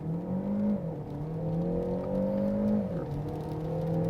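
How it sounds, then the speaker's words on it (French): A Peugeot 508 PSE hybrid, a 360-horsepower car, accelerating under load, its engine note climbing steadily with gear-change dips, a continuous mid-level drone heard from inside the car with no talk. "le bruit du moteur n'est pas formidable."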